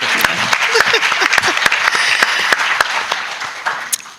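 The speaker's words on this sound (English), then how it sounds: "He gets a round of applause too." An audience at a San Antonio small business forum panel applauds a panelist, steady, dense clapping from a crowd, loud and close, continuing throughout.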